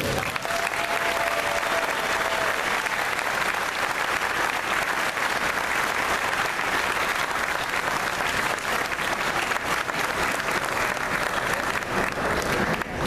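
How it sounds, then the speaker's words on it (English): Sustained, dense audience applause at a Flagler County sheriff candidate forum after the debate ends, loud and steady for about thirteen seconds with no break. "let's give the candidates a great round of applause for a spirited debate"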